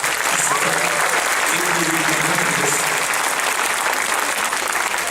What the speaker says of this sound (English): Give these boys and girls a round of applause.